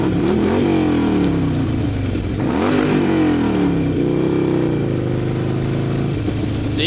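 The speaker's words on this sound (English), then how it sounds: "See, you gotta rev at those assholes like that." Close motorcycle engine revving loudly, pitch climbing and falling in a couple of throttle surges over a steady idle rumble, no talk.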